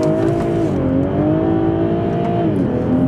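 A 2020 Toyota GR Supra engine with 340 PS revs hard while drifting around a corner, a loud sustained wail whose pitch rises and dips, with faint tyre noise underneath.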